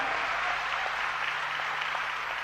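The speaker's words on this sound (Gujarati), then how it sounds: "તાળીઓથી વધાવી લો." Steady audience applause at a Gujarati folk literature and jokes program (dayro), a continuous wash of many hands clapping at moderate level, without speech.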